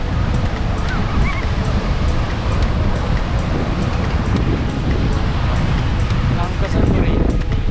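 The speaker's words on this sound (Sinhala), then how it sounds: "මේ තමයි කංකසන්තුරේ බීච් එක." Rough, deep sea surf rolls in continuously at Kankesanthurai beach in Jaffna. The roar is loud and close, with heavy wind buffeting the microphone throughout.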